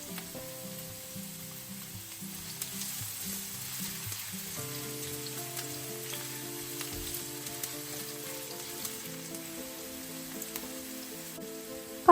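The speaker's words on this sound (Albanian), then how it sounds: "Do të hedhim qepën dhe do ta përziejmë her pas here për 1 deri në 2 minuta." Onion fries in about 60 ml of oil in a pan, a soft, even sizzle running beneath louder background music throughout.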